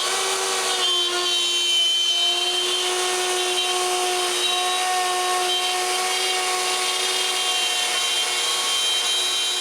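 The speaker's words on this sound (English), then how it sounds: "Then I can route their grooves. I begin with the groove of the central frame." A router cuts a groove into a clamped solid pine frame, giving a continuous high-pitched whine with a steady cutting hiss, close and loud throughout.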